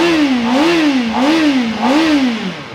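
Kawasaki Ninja ZX-4RR motorcycle engine revving in repeated blips, climbing and falling in pitch about four times, loud and close with no talk.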